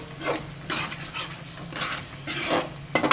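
A pinch of turmeric and masala stirred in a pot for chicken curry, rhythmic scraping strokes of a spoon against metal over a low sizzle, with a clatter of utensils at the end.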